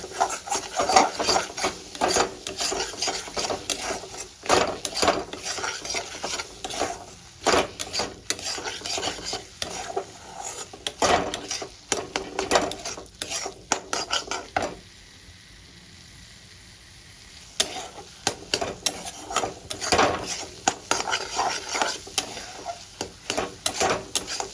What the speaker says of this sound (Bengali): এবার মশলাগুলো দিয়ে আমি একটু কষিয়ে নেব।